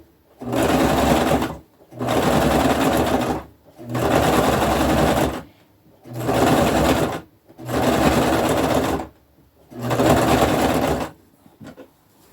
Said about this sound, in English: It's doing pretty good stitching, and it's so funny that the cheapest machine is doing the best.